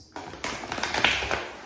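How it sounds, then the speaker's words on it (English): Tarot cards are shuffled by hand in a quiet room, a quick run of crisp riffling taps and flicks that build into a brief rattling flurry up close, with no talking. "One good shuffle for Aquarius, please."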